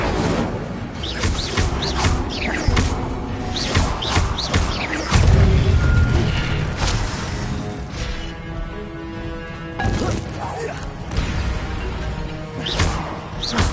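Incendio fire spell cast in Hogwarts Legacy, repeated bursts of whooshing flame with thuds and crashes amid busy combat effects, loud and close.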